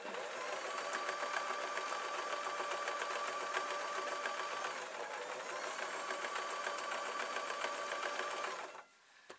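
A sewing machine runs steadily for about nine seconds, stitching a whoopie cushion seam in fabric, including a couple of reverse stitches, with a fast even whir and needle patter close by before it stops abruptly.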